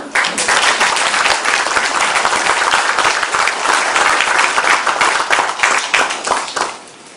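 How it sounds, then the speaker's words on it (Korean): Loud, close applause from an audience at an honorary doctorate ceremony, many hands clapping continuously for several seconds before cutting off abruptly. "박수를 쳐주시니까"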